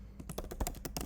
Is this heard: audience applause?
no